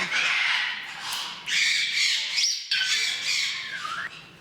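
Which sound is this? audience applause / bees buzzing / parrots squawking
parrots squawking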